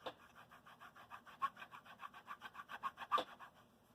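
Quick, faint rhythmic rubbing of a microfiber cloth over a small model surface with waterslide decals, about a dozen close strokes in a few seconds with no talking.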